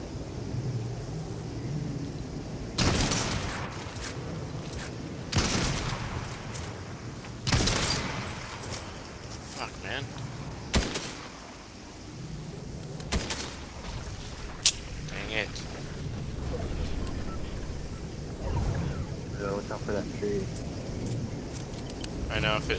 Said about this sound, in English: Oh, people are shooting at aisle guards.